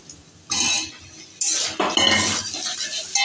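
Onion fried golden, garlic and large chunks of potato stirred in a pan, with a few bursts of metal utensil scraping and clinking against the cookware at close range, no talking.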